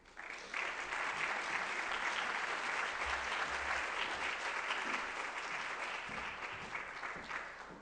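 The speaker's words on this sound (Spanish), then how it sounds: "Démosles un fuerte aplauso de bienvenida." An audience bursts into warm welcoming applause for a guest speaker at an economics lecture, a dense, loud sustained clapping that swells quickly and rolls on for several seconds before tapering slightly.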